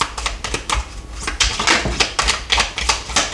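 Tarot cards being shuffled and laid down during a reading, a run of quick crisp papery flicks and taps in an uneven rhythm, close and fairly loud with no talking.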